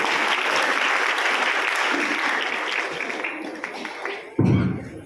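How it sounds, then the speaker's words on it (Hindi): An audience applauds steadily and fairly loudly, a continuous wash of clapping that tapers off, followed by a thump and a voice at the very end. "तो एक बार फिर से तालियां होनी चाहिए अनूप सर के लिए।"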